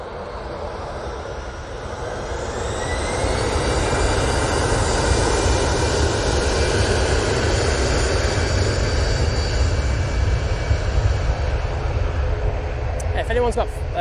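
easyJet airliner departing Manchester Airport for Belfast, jet engine roar rising over the first few seconds into a loud sustained thrust rumble with high whine, then holding steady to the end.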